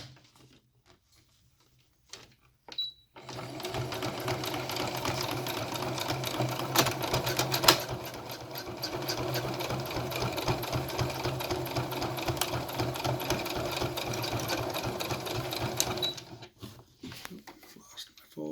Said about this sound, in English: start sewing at the top and do a straight line